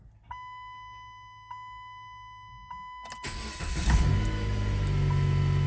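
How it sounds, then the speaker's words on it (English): A few soft electronic chimes repeat at a steady pace, then a Dodge Caliber engine cranks and catches, settling into a loud, steady idle. "We're gonna go in there and start the car and see what happens."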